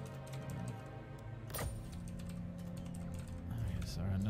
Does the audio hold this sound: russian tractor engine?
no